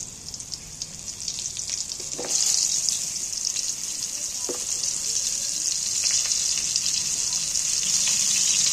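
Cut pointed gourd (potol) goes into hot oil with tempering spices in a pan. A loud, continuous sizzle swells sharply as the pieces land, with a few clinks and scrapes.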